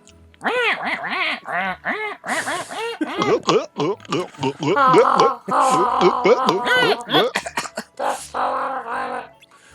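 A person imitates Donald Duck, producing a long run of raspy, squawking quack-like speech, close and continuous with short pauses.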